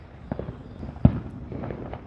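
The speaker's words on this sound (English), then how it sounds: "today's turning out to be a pretty good year for fireworks" Distant fireworks burst outdoors with one sharp, clear bang and a few fainter pops around it against a quiet background.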